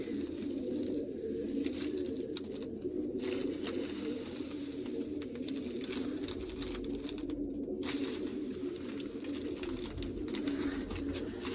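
Many pigeons in a loft give a steady, continuous murmur of low cooing, a dense overlapping drone with no talk.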